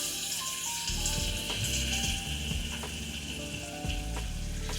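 Unsalted butter and flour cooking together in a pan, a soft continuous sizzle with faint stirring under a low background hum.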